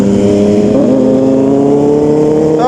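Kawasaki ZH2 and ZX10R big bikes rev past, a loud, steady engine roar with rising pitch that holds throughout the stretch, heard up close from a fellow rider's perspective.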